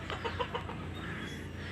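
Chickens give a few soft, short clucks in quick succession early on, then fall quiet over a low, steady background hum.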